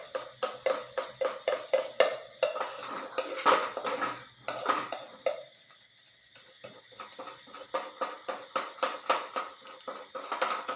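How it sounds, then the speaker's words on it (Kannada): Softened cooked food is mashed in a pot, producing a quick rhythmic run of metal-on-pot clinks and scrapes that pauses briefly and then resumes at the same steady pace. "ಅದ್ರಾಗ ಒಂದು ಸ್ವಲ್ಪ ನಾವು ಹಿಂಗೆ ಸ್ಮ್ಯಾಶ್ ಮಾಡಬೇಕದು, ಟೇಸ್ಟ್ ಚಲೋ ಬರ್ತದಂತ."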